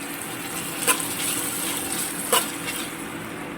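Garlic chutney is stirred in a hot pan, a soft steady sizzle broken by two sharp spoon knocks against the metal.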